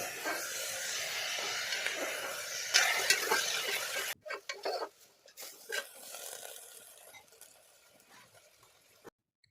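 Carrot and tomato pieces stirred in a frying pan for rajma pulao, a steady sizzle with scraping spoon strokes against the pan that drops to softer, intermittent stirring halfway through, close and without speech.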